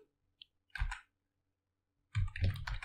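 Two brief bursts of clicking from a computer keyboard as a terminal command is typed, close and clear against a silent background.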